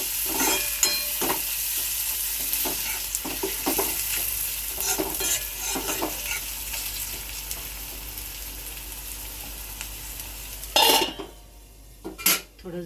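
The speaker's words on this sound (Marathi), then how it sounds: "टॅमॅटो पण थोडा नरम होईपर्यंत परतत राहायचं थोडं" Tomatoes for kolambi masala sauté in a pan over a steady hiss of frying, while a metal spatula scrapes and clatters in quick, busy strokes; the sound drops away abruptly near the end.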